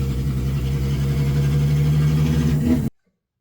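A BMW E36 fitted with a VR6 engine runs loud and close, a steady throaty drone with a slight rise near the end before it cuts off abruptly.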